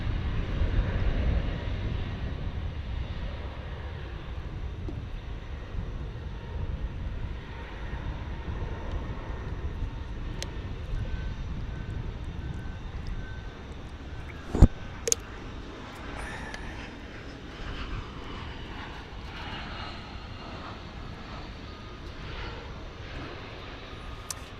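A Japan Airlines Airbus A350 airliner at DFW airport, heard as a continuous low, distant engine roar that stays fairly steady, with a couple of sharp clicks partway through.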